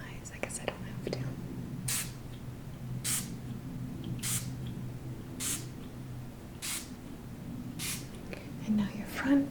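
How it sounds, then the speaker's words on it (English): Six short, evenly spaced hissing bursts of balsam poplar spray are misted close to the listener during a Reiki ASMR session, with soft whispering running underneath. "This is a balsam poplar spray."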